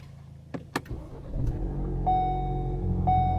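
A car engine cranks after a few clicks and settles into a steady idle hum, with a faint electronic chime near the end.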